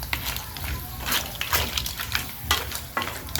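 Seafood being stirred in sauce in a frying pan, with a steady sizzle and scraping, clattering stirs recurring every half second or so, close and fairly loud.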